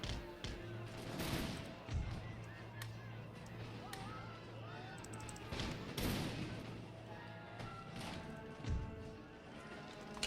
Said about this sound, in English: They are already shooting at me, so I'm going to give the order of shooting.